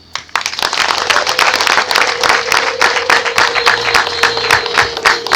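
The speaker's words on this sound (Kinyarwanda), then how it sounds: "Wumvise kandi ko amashyi yaha ajyana n'impundu." Many hands clapping in a dense, rhythmic burst at a wedding celebration, fairly close and loud, with a faint tonal drone underneath and no talking.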